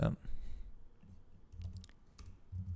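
Quick, faint key clicks from a computer keyboard come in short scattered bursts against a low background murmur, close and soft rather than rapid continuous typing.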